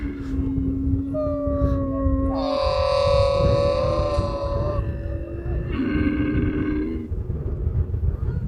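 A camel in the Nubra desert of Ladakh lets out long, moaning, wavering cries, several drawn-out groaning calls in a row, loud and close over faint background noise.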